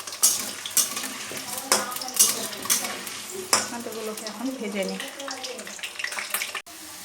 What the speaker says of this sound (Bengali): তারপর আলুগুলোকে ভেজে নেব এবার আমি আলুগুলোকে ভেজে নেব ভালো করে